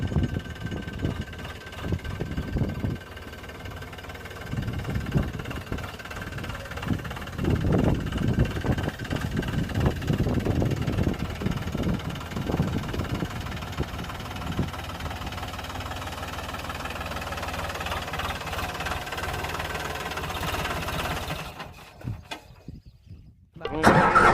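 A tractor engine stuck in mud rumbles and chugs unevenly, rising and falling in bursts close by, then fades and cuts out near the end; no clear talk over it.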